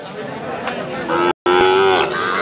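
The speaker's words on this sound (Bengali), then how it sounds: "এইটা বকনা বাছুর শাহিওয়ালের" A young Sahiwal heifer calf moos loudly and close by at a cattle market, one drawn-out call over a noisy background, briefly cut off in the middle.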